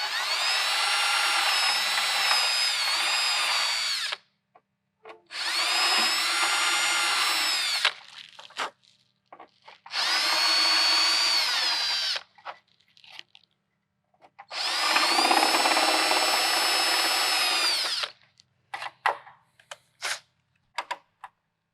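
A power drill whines in four long bursts of several seconds each while drilling 3/16-inch holes through metal, separated by short pauses and small clicks, close and loud.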